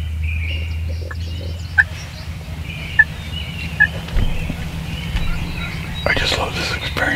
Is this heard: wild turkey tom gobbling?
yes